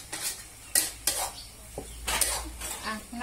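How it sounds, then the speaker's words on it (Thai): Holy basil pad kra pao being stir-fried in a pan, heard as a few sharp metallic scrapes and clanks of a spatula against the pan over a faint low sizzle, close by with no talking. "จะใส่ใบกะเพราแล้ว ผัดตั้งอย่างนี้ลูก"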